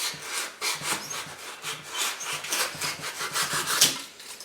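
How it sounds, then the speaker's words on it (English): A surform rasp shapes wood on a black bass taxidermy mount in quick, rough back-and-forth rubbing strokes that keep up a steady rasping rhythm, close by, with no voices. "You know what a surf form is, like a cheese grater for wood."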